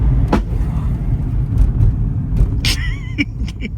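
A car drives on with a steady low rumble after running over a dead animal, with scattered knocks and brief scraping or squealing noises from underneath near the end.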